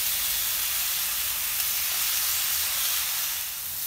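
Steak sears in a frying pan over high heat, making a loud, steady, close sizzle and hiss that runs continuously without talk.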